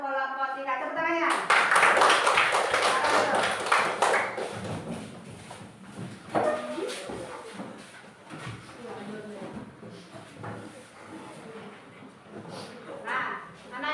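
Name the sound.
class clapping hands for group 3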